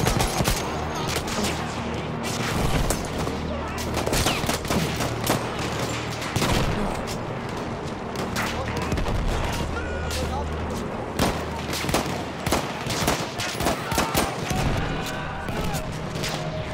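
Dense, continuous gunfire from the Battlefield 1 single-player campaign, with rapid overlapping shots and bursts running throughout, layered over a constant battle din, and a voice talks over it at times.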